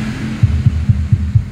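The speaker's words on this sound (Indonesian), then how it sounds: "Bunyinya subwoofer saja ya," Deep subwoofer bass through a power amplifier's low-pass filter, the mids cut away, thumps in five evenly spaced low pulses over a steady muffled hum, with no talking.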